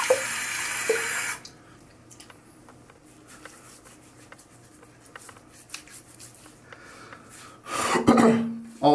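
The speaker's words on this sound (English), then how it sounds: "Let's get some more water on this bin." A tap runs water onto a bin in a bathroom while shaving, with a steady hiss that fades low for a while and then surges back loud near the end.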